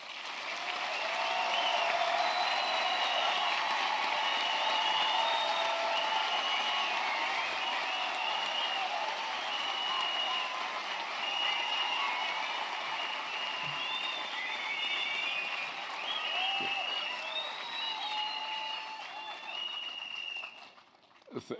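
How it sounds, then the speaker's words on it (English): Sustained applause from a graduation ceremony audience fills the hall, steady for about twenty seconds with scattered cheers and ululation-like calls on top, then tapering off near the end. "I want to believe that the graduates deserve a firmer round of applause."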